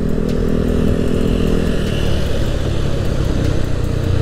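A Yamaha Aerox bored up to 200cc with a custom exhaust roars loudly and steadily close by, a dense, throaty engine drone with no speech.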